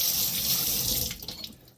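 A tap runs water into a sink for soaking labels off homebrew bottles, a loud close hissing splash that fades and breaks up as the flow stops.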